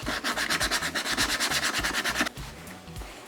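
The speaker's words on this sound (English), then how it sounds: "When I'm sanding with sandpaper, I make sure that my edges are pointed away from my piece" Rhythmic back-and-forth strokes of sandpaper rasp against EVA foam, steady and close, then a few slower, lighter rubs at the end.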